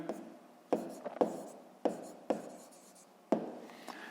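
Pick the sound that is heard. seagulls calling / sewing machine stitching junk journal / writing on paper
writing on paper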